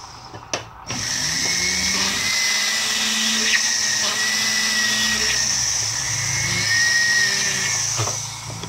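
A saw cuts through an acrylic frame for a Buddhist amulet coin, a steady high buzzing rasp that runs continuously after a brief knock at the start, close and unbroken.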